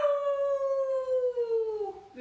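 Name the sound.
child imitating a dog howl for upward facing dog pose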